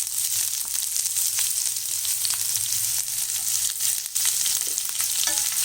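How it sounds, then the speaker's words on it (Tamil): Sliced onion drops into hot oil with popped mustard seeds and urad dal for a broad bean poriyal, producing a loud, continuous close sizzle and crackle with occasional stirring sounds. "இப்போ இந்த கடுகு நல்லா பொரிஞ்சிருச்சு. இதில் நம்ம வெங்காயம் போட்டுக்கலாம்."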